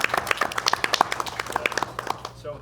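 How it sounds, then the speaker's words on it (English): A round of applause at a school district board meeting rises from a scattered group of people clapping, the claps uneven and fairly close, fading out at the end. "round of applause for all of our"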